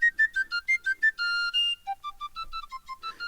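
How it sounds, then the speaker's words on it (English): A Celtic tin whistle plays a quick piccolo line, a run of short bright notes with a couple of longer held tones, clean and close with no other sounds. "for the piccolo, I've got a Celtic tin whistle"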